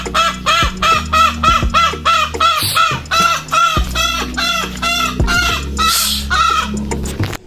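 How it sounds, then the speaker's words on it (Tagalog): Chickens cluck in rapid, repeated bursts close by, and a rooster crows loudly partway through. "ingay na manok"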